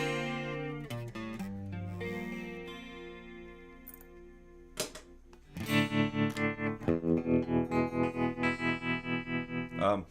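Electric guitar notes and chords through a Fractal FM3 shimmer with a wavering chorus effect, rhythmic pulsing swells building louder toward the end.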